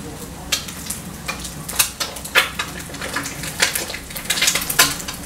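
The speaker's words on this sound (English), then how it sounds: "I'm going to flip this egg and then I'm going to turn the pan off" An egg sizzles in a hot pan with crackling pops and scraping clicks of a fork and cookware, moderately close, with a faint voice now and then.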